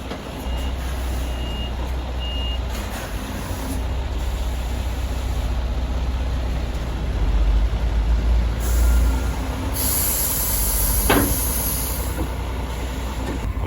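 A truck's air brake system builds pressure with a steady, low-droning engine and hiss, while reversing beeps sound throughout and a brief sharper burst cuts in near the end; no one talks.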